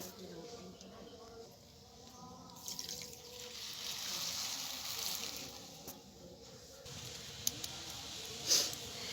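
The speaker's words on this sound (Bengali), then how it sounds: "এখন আমি এই বাটির হাফ বাটি জল দিয়ে দেবো" Water pouring into a bowl with sugar for syrup, a steady trickling splash running under a woman's speech, with a couple of light clinks near the end.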